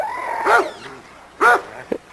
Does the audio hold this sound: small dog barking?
yes